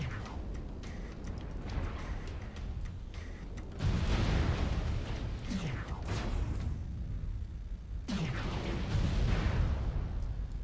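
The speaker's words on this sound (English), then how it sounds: "Someone shooting at me." Weapons fire and explosions slamming into a battle mech in MechWarrior Online: repeated heavy booming impacts with whooshing streaks, loud surges around the middle and late parts over a steady rumbling game background.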